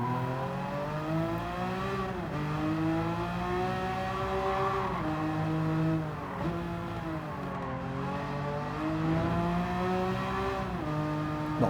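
A race car in Gran Turismo 7 screams through its gears on track, the loud engine note climbing steadily, dropping sharply at each shift, and repeating over and over with no pause.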